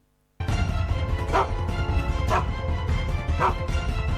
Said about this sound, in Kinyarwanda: zanye imbwa ebyiri